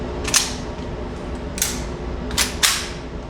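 Four sharp, crisp reports from a 9mm AK-style pistol fired at steel targets on an outdoor range, spaced irregularly over a few seconds above a steady background hum, with no talking.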